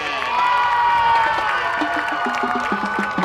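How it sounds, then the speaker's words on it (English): A crowd cheers and claps for a high school marching band at a homecoming football game at night, loud whoops and shouting over steady applause, with a band horn phrase faintly audible near the end. "round of applause for the Tiger Pride Marching Band."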